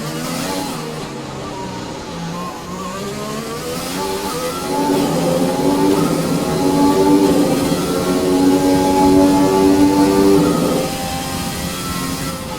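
A loud Formula 1 race car engine in the video game F1 2020 at Monaco drones and climbs in pitch, revving steadily higher over several seconds before easing off, with a constant roar throughout.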